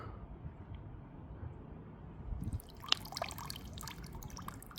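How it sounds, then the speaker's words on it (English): An FPV drone is dunked into pool water, giving a soft close splash and trickling, dribbling water with a sharp burst of bubbling near the middle; no one speaks. "Okay, we're gonna dunk it in water again."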